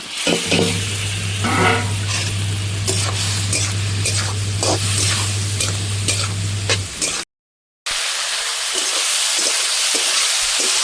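Fried okra (bhindi) tipped back into a hot pan sizzles steadily, with scraping stirs and a low hum underneath; the sound cuts out briefly near the end, then returns more quietly.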